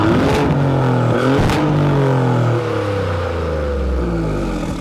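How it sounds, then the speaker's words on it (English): A Maserati GranTurismo's 3-litre twin-turbo Nettuno V6 exhaust rumbles loud and close, its revs rising and falling with deep, sweeping engine tones. "the exhaust so you can hear the tune of the Nettuno engine"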